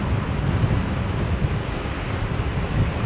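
Steady wind at Brisbane Airport during a live plane-spotting stream just after rain, a continuous loud low rumble buffeting the microphone with no talk.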